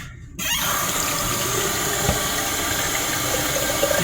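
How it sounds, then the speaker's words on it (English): A kitchen tap runs steadily as salted possum meat is rinsed under it, a close, continuous rush of water beginning just after a brief silence and holding for several seconds. "Now I'm just gonna rinse it."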